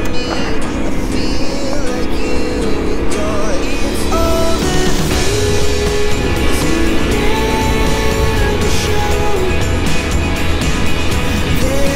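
Yamaha Ténéré 700 World Raid motorcycles climbing an off-road trail at the foot of the Jura, engines droning loudly and steadily throughout with rising and falling revs.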